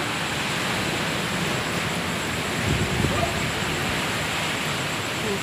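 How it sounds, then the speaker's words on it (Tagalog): Strong typhoon wind roars steadily through the night, a dense broadband rush with a slight surge midway, no voices. "Yan yung ubong ng hangin."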